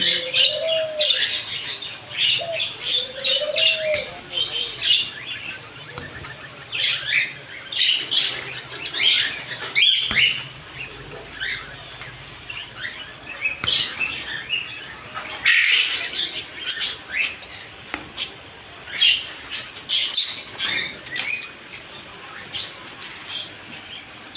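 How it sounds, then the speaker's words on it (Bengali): Many small caged birds, budgerigars and lovebirds among them, chirp and twitter continuously in a busy bird shop, with dense overlapping calls, occasional wing flutters and a few cooing notes throughout. "এদিকে আছে জাপানিজ বাজরিকা পাখি লাভ বার্ড লাভ বার্ড দুই তিন কালারের পেয়ে যাবেন"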